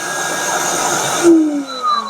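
An electric kitchen blender runs with a loud, steady whirring drone, then cuts off sharply partway through, leaving a fading hum and a faint tone trailing after.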